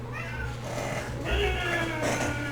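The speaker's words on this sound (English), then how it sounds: "That cat sounds mad." Angry cat meowing in a drawn-out, wavering yowl, followed by a second rising complaint over a constant low background hum.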